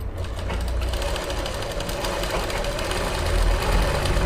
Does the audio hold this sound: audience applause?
no